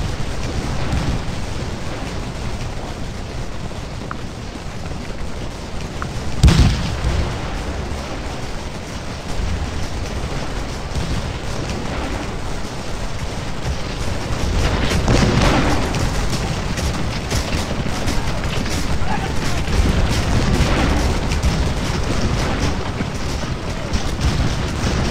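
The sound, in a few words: Civil War musket and artillery fire, Scourge of War: Gettysburg video game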